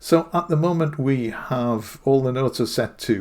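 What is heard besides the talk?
No distinct noise like a dog, phone or traffic.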